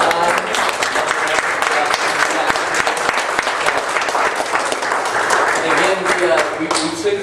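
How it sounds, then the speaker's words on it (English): An audience at a real estate seminar applauds the volunteers, with steady, full clapping and a murmur of crowd noise lasting about seven seconds. "please give a hand of applause for the folks that volunteered their time"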